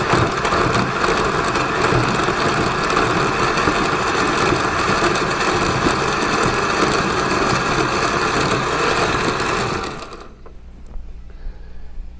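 A blender grinds pitted, diced dates for a banana almond butter smoothie, churning loudly and steadily up close for about ten seconds before cutting off into quiet.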